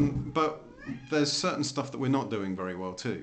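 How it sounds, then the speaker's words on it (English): A house cat meows in the background while a person talks steadily close by, the cat's calls faint and partly buried under the speech. "You can hear my cat in the background here"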